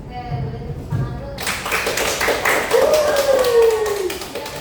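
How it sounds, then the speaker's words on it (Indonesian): A short round of hand clapping from a small group in an Indonesian classroom lesson, with broadband taps starting after a brief pause and continuing steadily, while a tone sweeps faintly underneath. "Oke, boleh tepuk tangan dulu."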